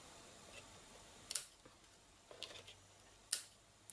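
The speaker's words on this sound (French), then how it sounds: "Et je coupe l'excédent" Scissors cutting off the excess ribbon on a gift label, heard as a few sharp, quiet snips spaced about a second apart against near silence, with no voices.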